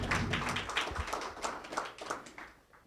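Scattered hand clapping at a US Senator Ed Markey press conference against anti-Asian hate, a small group applauding with uneven claps that fade out over a few seconds.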